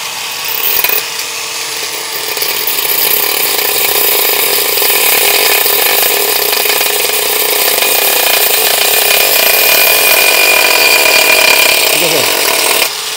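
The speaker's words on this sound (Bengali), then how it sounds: "এই 1120 টাকা গ্যান্ডিং মেশিনটা দিয়ে আপনি কিভাবে টাইলস কাটবেন আমি আপনাদেরকে প্র্যাকটিক্যাল প্রমাণ দেখাই" A cheap angle grinder priced at 1120 taka cuts through tiles, its loud, steady, high-pitched whine and grinding rasp running continuously for several seconds up close.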